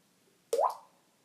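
A water-like sound made with the mouth: a single wet plop or drip with a quick rising pitch sweep, close and fairly loud, lasting about half a second before fading into quiet.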